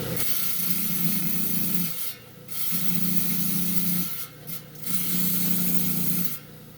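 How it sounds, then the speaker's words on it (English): A rock saw's diamond blade being dressed with a coarse grinding wheel, heard as a loud, steady grinding rasp over a motor hum in three long passes separated by brief dips. "the other thing I do before I cut rocks is I dress it up with a coarse grinding wheel"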